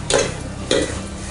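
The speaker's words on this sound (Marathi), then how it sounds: "नंतर ही फ्राय अशी परतणार आहे." Dried fish (sukat) stir-fried in a pan, Agri home cooking from Korpa village in Mumbai: two distinct scraping, sizzling stirs about half a second apart over a low background frying hiss.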